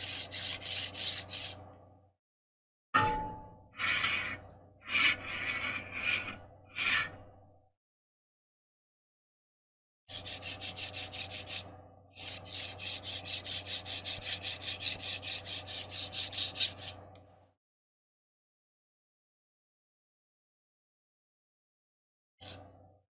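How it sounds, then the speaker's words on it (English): A linear rail carriage on a Voron 2.4 3D printer is slid back and forth, giving a close, gritty rolling rasp in repeated strokes separated by pauses of silence. "Now we can run it up and down a few times."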